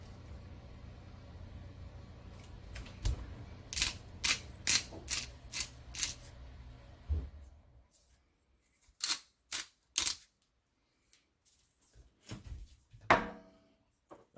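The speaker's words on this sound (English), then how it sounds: "some of them that pink salt. You know, you grind it up in a coarse grind." Coarse pink salt ground in a hand grinder, a series of close, crisp ratcheting cranks in quick succession, then a pause and a few more scattered turns, with no talking.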